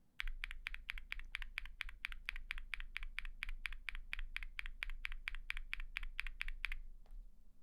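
A keyboard with lubed and filmed Durock POM linear switches is typed on in an even run of about two dozen crisp, close keystrokes, muted and deep in tone, then it stops.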